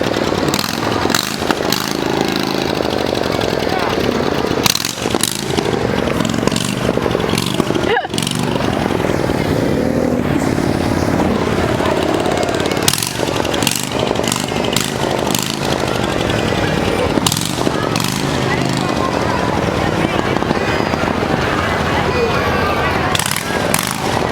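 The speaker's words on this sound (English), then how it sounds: "It's hard to drive a motorcycle in the parade" A motorcycle rolls slowly through a July 4th parade, its engine rumbling and revving in uneven bursts close by for the whole stretch, while people talk nearby over the engine noise.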